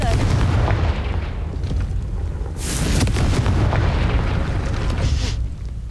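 Confringo spell blasts in the Hogwarts Legacy video game boom loudly over a constant roar of game effects, with strong bursts near 2.6 and 5.3 seconds.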